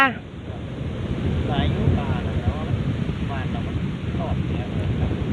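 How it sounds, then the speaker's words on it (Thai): Strong wind blows steadily outdoors on a morning near open water, buffeting the microphone with a constant roar and faint wave-like wash, while a person talks intermittently over it. "เสียงลมก็จะดังแบบนี้แหละธรรมชาติธรรมชาติ"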